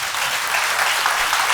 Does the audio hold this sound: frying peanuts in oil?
no